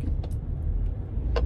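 Steady low road rumble of traffic heard from inside a moving car, with a few brief faint higher clicks over the constant drone and no voices.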